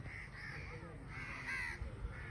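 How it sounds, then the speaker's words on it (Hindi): Several crows caw in a rural village beside rice paddies, quick harsh calls overlapping at a moderate distance over a soft outdoor background. "ये सामने कौवे बहुत सारे आए हुए हैं इस वक्त"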